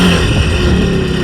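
Personal watercraft jet ski engine running loud and steady at close range, a continuous droning roar with a throaty low rumble and no pauses.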